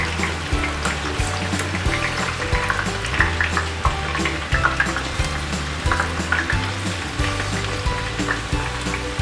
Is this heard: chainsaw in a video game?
no